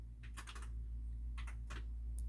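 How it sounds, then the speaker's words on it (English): Computer keyboard typing in short, clattery bursts of several quick keystrokes, with pauses between them, heard faintly in the background over a steady low hum. "if you hear keyboards, it's my brother."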